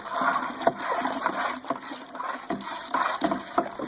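Tap water runs into a plastic homebrew fermenting bucket being filled toward the 4.5 gallon mark, a continuous close splashing and gurgling with small surges and bubbling, no voices.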